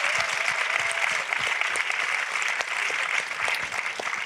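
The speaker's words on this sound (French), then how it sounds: "On peut l'applaudir." Steady, dense audience applause for a speaker at a festival talk, even and continuous clapping from a sizeable crowd with no other sound standing out.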